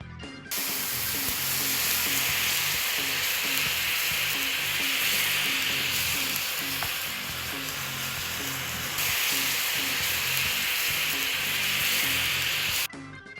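Pasta is tossed in tomato sauce in a hot pan, producing a steady bright sizzle with rhythmic stirring and shaking scrapes throughout. Near and continuous, with no talking.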